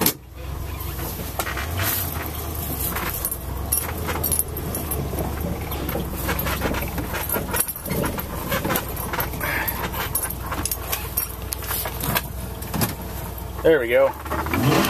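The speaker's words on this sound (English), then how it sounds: "Old start, cold start of the 1987 Ford F350." A 1987 Ford F350 truck started cold, its engine running loud and rough with clanks and rattles throughout, while a dog pants nearby and a person briefly speaks.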